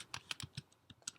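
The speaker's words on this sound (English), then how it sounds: "if you just type Etherpad" Typing on a computer keyboard, a short run of about eight separate key taps, close and fairly quiet, with no talking.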